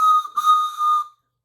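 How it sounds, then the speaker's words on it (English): A toy train whistle gives a shrill, breathy two-part toot, a short blast followed by a longer held one, loud and close with nothing else heard. "I even have my train whistle."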